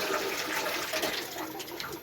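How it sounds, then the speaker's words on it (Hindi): Two glasses of water are poured into a cooking pot of curry, giving a loud, close, continuous splashing gush. "ये देखें जी, मैंने 2 गिलास पानी डाल दिया इसमें।"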